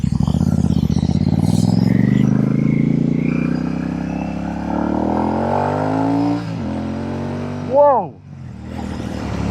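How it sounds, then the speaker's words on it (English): A Royal Enfield Shotgun 650 motorcycle fitted with AEW exhaust pipes revs hard, its loud throaty note rising steadily, dipping, then snapping through a quick sharp blip as a rider briefly exclaims. "That is an excellent sounding pipe"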